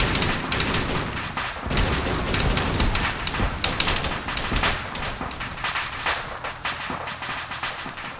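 Dense, continuous gunfire fills a video game battle between Soviet-era T-55 and T-34 tanks, with bursts of rifle and machine-gun fire overlapping into a loud, rattling fusillade with no talk.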